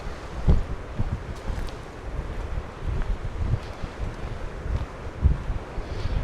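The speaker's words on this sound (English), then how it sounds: "Even on a very windy day like it is today" Strong gusty wind buffets a microphone on a beach above rough seas, a steady broadband roar with low thumping gusts and surf washing faintly underneath, no voices.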